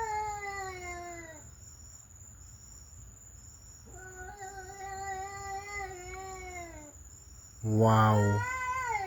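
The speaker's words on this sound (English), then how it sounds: "Sounds like a little kid, eh?" A cat caterwauls in long, wavering, child-like cries: several drawn-out, falling wails, a pause, then more rising-and-falling yowls and a final louder, strained howl near the end, fairly close over a steady background hiss.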